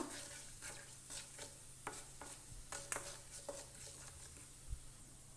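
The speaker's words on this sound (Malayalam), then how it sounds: "ഒരു ടീസ്പൂൺ പെരിഞ്ചീരകം ചേർത്ത് കൊടുക്കുക ഇതൊന്ന് ഫ്രൈ ആക്കി എടുക്കാം" A teaspoon of fennel seeds frying in oil for a Kerala-style beef roast, a soft continuous sizzle with light stirring scrapes and occasional clinks, heard close and fairly quiet.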